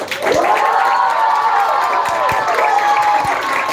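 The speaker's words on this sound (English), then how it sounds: "So can we all cheer for her, please?" At a children's literature festival, a school audience cheers and claps for a young dancer, loud and close, with bright voices whooping over continuous applause.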